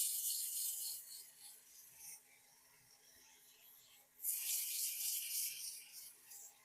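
Wood being turned into a large ogee curve on a lathe gives soft rasping, scraping bursts, quiet and close, with a pause in the middle before the cutting resumes.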